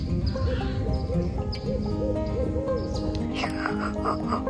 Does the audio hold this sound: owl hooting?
yes